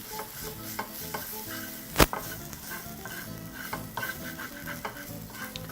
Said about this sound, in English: Proceed to fry up your onions with that beautiful tomato paste.